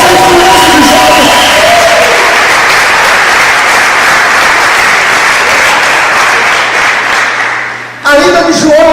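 A youth camp audience breaks into loud, dense applause with some cheering that holds steady for about eight seconds, then cuts off abruptly.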